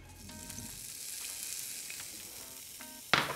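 Bacon sautés in olive oil in a pan with a continuous close sizzle and a few faint clinks. A sharp utensil knock near the end.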